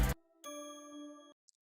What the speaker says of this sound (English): this bell thing needs to go for this part